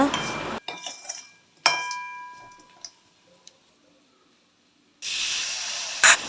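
A utensil clinks and rings against a pan while sautéing salt and chili powder for garlic kuzhambu, then after a quiet gap a steady oily sizzle rises near the end.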